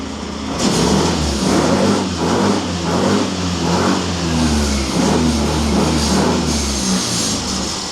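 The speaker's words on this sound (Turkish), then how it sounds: "Bir çalıştırayım motoru. Görelim. Sesini de duyalım." A Yamaha Tricity 155 scooter's small engine sputters to life and keeps running with a steady buzzing drone, revving up and down slightly, loud and close.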